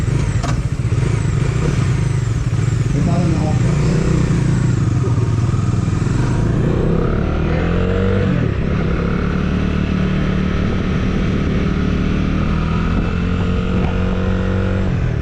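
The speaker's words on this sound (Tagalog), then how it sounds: "Ang ganda ng response ng engine" Bajaj Dominar 400 motorcycle on a track test ride, its engine loud and close throughout, revving hard and climbing through the gears with a continuous rising and falling drone.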